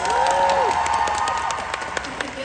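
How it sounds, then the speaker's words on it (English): Applause and cheering from a convention panel crowd at MCM London ring out behind a speaker's amplified voice, with scattered claps and tonal crowd noise that fade toward the end. "Round of applause for the hat, you guys."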